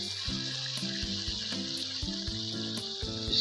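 Carrot halwa with milk sizzling and frying in a pan as it is roasted down, a soft continuous crackle of cooking food heard close and at low level.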